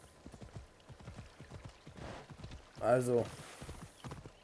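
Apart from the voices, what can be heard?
horse hooves clip-clopping while riding, from video game Assassin's Creed Odyssey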